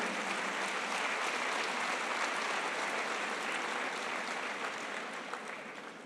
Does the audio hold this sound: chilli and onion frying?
no